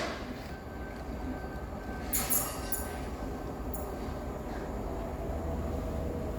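A GWR Intercity Express Train passing through Bath Spa station, a steady low rumble and rolling wheel noise with a few brief high squeals and clanks partway through, fairly close and continuous.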